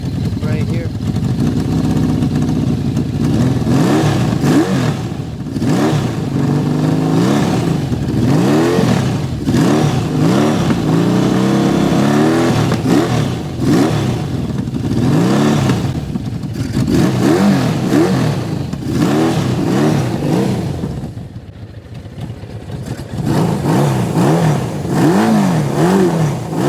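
A Suzuki GS650GL motorcycle engine that needs tuning runs and revs repeatedly, rising and falling in pitch over about half a minute, loud and close with brief dips.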